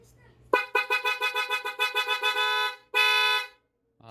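Yamaha Sniper 155 motorcycle horn blares up close in a rapid series of short pulsing honks, then one longer sustained blast after a brief gap.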